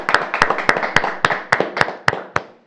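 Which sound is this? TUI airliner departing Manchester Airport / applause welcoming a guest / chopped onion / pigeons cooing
applause welcoming a guest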